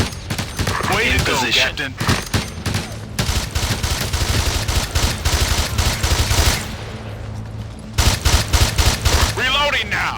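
Hostile gunfire in the video game Ghost Recon, steady loud volleys and rapid repeated shots throughout, with a brief lull before heavier bursts resume, while voices talk over it.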